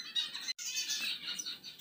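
European goldfinches in a breeding cage chirp and twitter continuously, close by, with bright overlapping calls and a brief silence near the start.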